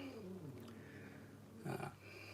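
An older tortoiseshell house cat purrs or growls low in the background, a steady rumbling texture that swells briefly near the end, with no speech over it.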